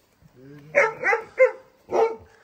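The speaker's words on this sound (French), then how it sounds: "il aboie" A dog gives several sharp, close barks in quick succession, preceded by a soft whine, with a short pause before the final bark.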